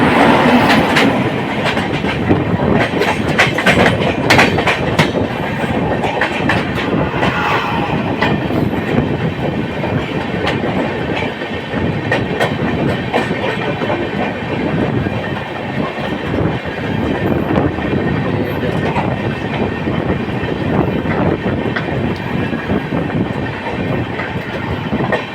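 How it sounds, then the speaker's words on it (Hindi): Lucknow–New Delhi Tejas Rajdhani Express passing close by at full volume, a steady roar of wheels with rhythmic clickety-clack and faint squeal for the whole stretch, heard from a neighbouring crowded train. "सामने से लखनऊ नई दिल्ली तेजस राजधानी एक्सप्रेस आते हुए"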